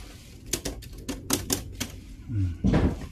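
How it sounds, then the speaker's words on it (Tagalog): A typewriter in the dark Nightmares Manila haunted attraction in Sucat, Parañaque, its keys clacking in a quick irregular burst of sharp strikes, followed by a heavier mechanical clunk, heard close by. "May typewriter po."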